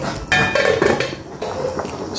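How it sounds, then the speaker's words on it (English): Edo black soup being stirred in a pot on the stove, a spoon scraping and knocking against the metal in a few close, uneven strokes with a faint liquid slosh. "I'm just going to stir that now."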